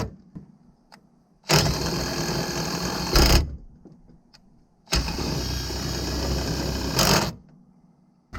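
A DeWalt electric power tool drives a trailer jack in two loud, close whirring bursts of about two seconds each, with quiet pauses around them.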